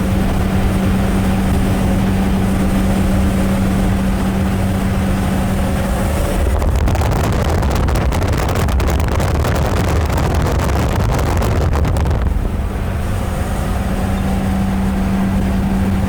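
Suzuki Samurai on 35-inch boggers driving at about 60, steady loud road and wind roar throughout with a low drone, a rougher buffeting stretch through the middle, no talk.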